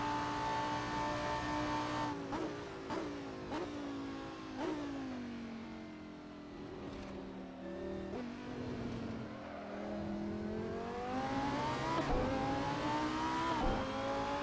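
GT3 race car lapping a track, its engine droning continuously with rising and falling revs through gear changes as it brakes and accelerates, heard steadily from close by.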